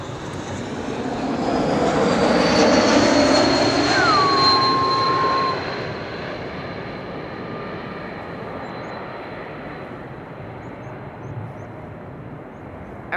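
An Embraer 195 E2 airliner arriving at Amsterdam Schiphol from Edinburgh: a loud, broad jet roar that swells over the first few seconds, then fades into a long steady rumble.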